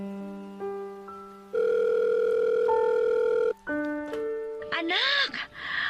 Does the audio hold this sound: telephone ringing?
yes